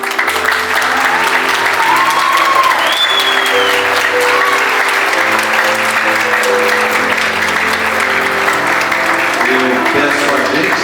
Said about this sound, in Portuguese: Peço a gentileza que aplauda, mas não assobie nem grite.